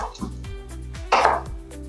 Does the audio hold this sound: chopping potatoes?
yes